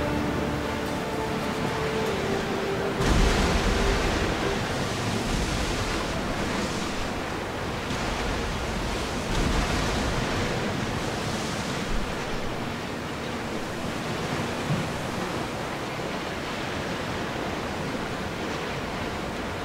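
A ship sails on open sea in Assassin's Creed Odyssey, a continuous loud wash of waves and wind rushing past, with surges of surf swelling and fading, no voices.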